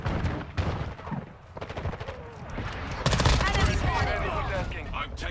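Rapid gunfire from a BAS-P rifle in Modern Warfare 2 fills the scene, bursts of shots crackling close and loud over a busy battle, with talk over part of it.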